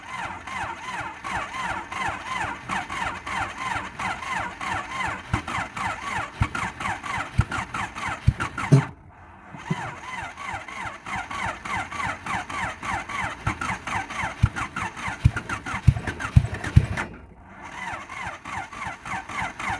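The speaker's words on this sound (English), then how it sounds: "I'm just gassing it so that one hole will start, because that's the one that does all the work." A Honda Civic engine with only a few cylinders firing cranks and sputters while being revved. The rough, uneven chugging is close and loud, and it cuts out briefly twice before restarting.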